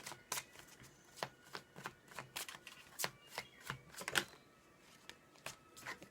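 Tarot cards being shuffled and cut by hand, a series of soft, crisp riffling snaps and slaps at an uneven rhythm, close and fairly quiet, with no voice.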